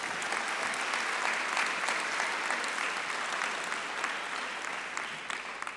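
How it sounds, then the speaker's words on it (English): Steady applause from a large crowd at a school graduation, dense and sustained, fading slightly toward the end. "Let's give them a big round of applause."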